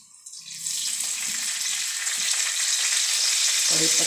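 Cumin and mustard seeds crackle in hot oil with a pinch of asafoetida and curry leaves, tempering for val papdi bhaji; a loud, steady sizzle builds and holds close up, with a few low clinks of stirring and no talk.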